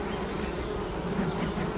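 Steady, dense buzzing of many honeybees close by at the hive frames, a continuous drone with no voices.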